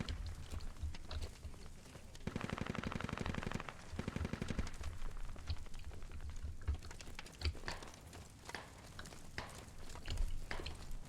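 Gunfire in the Squad video game, with a sustained burst of rapid automatic fire midway and scattered single and distant shots before and after it, steady in the background.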